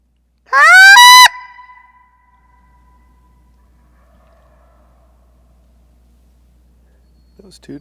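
A single loud, rattling gobble of a Rio Grande wild turkey bursts out near the start, harmonically rich and descending, followed by near silence with a faint low hum.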